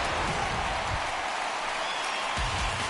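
A home baseball crowd in MLB The Show 19 keeps up a steady wash of cheering and applause, broad and distant, constant throughout without any clear voices standing out.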